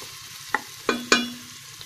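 Onions frying in a spoonful of ghee in a pan give a soft, steady sizzle, broken by three quick scrapes or clinks from a stirring spoon, with no talking.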